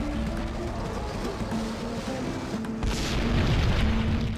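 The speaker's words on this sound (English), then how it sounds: "not before hitting a tanker truck which explodes" Tanker truck explosion in the Max Payne video game, a deep rumbling boom that swells and lingers as a loud, low roar with a brighter burst near the end, no talk over it.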